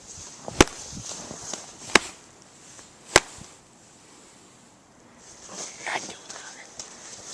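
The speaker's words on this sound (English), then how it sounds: "I'm gonna do some claps." Three sharp hand claps ring out a second or so apart in a quiet forest, followed by faint ambient rustling and distant sounds.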